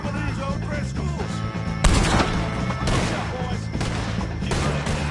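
Gunfire in Red Dead Redemption 2 during a shootout, repeated sharp rifle and pistol shots cracking over a loud, busy battle din with shouting voices.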